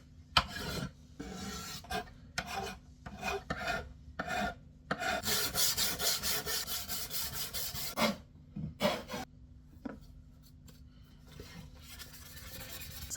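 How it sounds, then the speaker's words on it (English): A hand plane working a wooden instrument fingerboard: a series of short rasping strokes, then a longer sustained run of shaving, followed by a few quieter scattered passes, close and distinct with no talking. "I've quickly got to finish planing this fingerboard."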